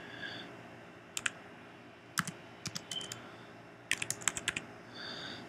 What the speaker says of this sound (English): Type in your IP address of your Apple TV.